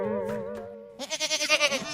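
A lamb bleats close by and loud. A steady tone gives way to a strongly wavering, pulsing bleat lasting about a second, with no one talking.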